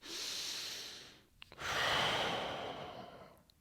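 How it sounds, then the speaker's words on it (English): Slow, close breaths during a breathing exercise: a long airy exhale, a short pause with a couple of faint catches, then another long, soft breath that fades out. "Then I breathe."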